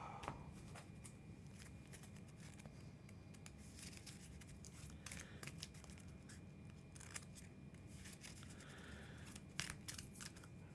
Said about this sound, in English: now we shuffle this up